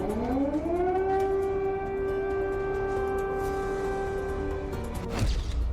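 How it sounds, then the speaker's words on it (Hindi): An air raid siren wails over Moscow's Kremlin, a loud sustained tone that climbs at the start, holds steady for several seconds, then falls away, with a faint crash at the end. "24 घंटे क्रेमलिन में सायरन बजा"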